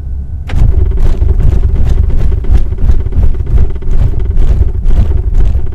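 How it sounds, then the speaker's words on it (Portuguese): A Ford Ka Titanium 1.5 automatic rolls over road studs, filling the cabin with steady road rumble punctuated by a quick, regular series of thumps from the tyres. "Vamos alinhar o carro com os tachões e vamos ver como é que se comporta o isolamento acústico e suspensão"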